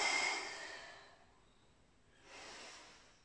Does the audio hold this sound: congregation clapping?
no